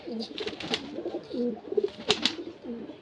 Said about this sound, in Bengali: দেখার মতন কালদম দেখুন বন্ধুরা, পুরো পুতুলের মতন পায়রা